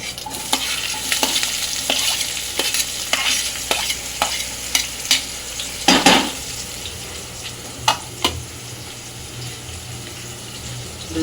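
Onion sizzles in a hot pan while being stirred for a Maharashtrian matki usal, with a steady frying hiss and repeated scraping clinks of the spoon against the pan, close and fairly loud.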